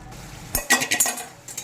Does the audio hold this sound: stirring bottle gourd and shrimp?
yes